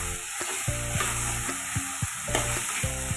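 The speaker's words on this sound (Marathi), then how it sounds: "व्यवस्थित परतवून घ्या." Okra (bhindi) stir-fried in a pan over a high flame gives a steady close sizzle, broken by repeated scraping spatula strokes and a faint tonal hum in the background.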